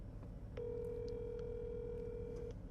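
A telephone call rings out through the earpiece as a steady electronic ringback tone that holds for about two seconds over a low background rumble, heard from inside a Lamborghini Aventador or Ford GT supercar.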